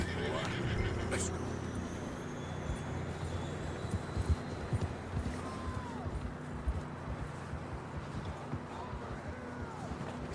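A horse whinnies loudly near the start in Red Dead Redemption 2, followed by hoof clip-clops and rustling movement, with quieter neighs and faint voices in the background.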